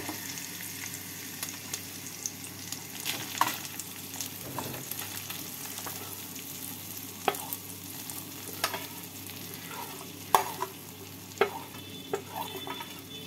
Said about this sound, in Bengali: তেলের মধ্যে নাড়াচাড়া করে নেব। এবার এর মধ্যে ডালটা দিয়ে দেব।